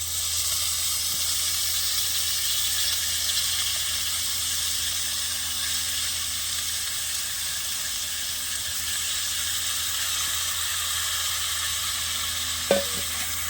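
Boiled broad beans stir-frying in a tempering of hot oil, village-style cooking, a steady low sizzle and hiss throughout with a single sharp knock near the end.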